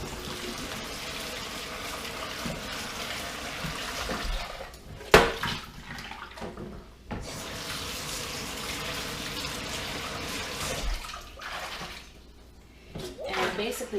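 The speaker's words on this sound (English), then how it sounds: "basically I rinse them until the water coming off of them no longer makes any bubbling foam" Tap water runs over rhubarb stalks in a strainer in a home kitchen, a continuous splashing rush that pauses briefly several times as the stalks are moved under the stream.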